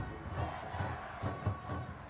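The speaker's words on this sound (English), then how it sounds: "The Vietnamese fans in full volume here." Vietnamese football fans roar from the stands at a SEA Games men's match against Thailand, a dense, sustained crowd din with rhythmic chant-like swells and no talk over it.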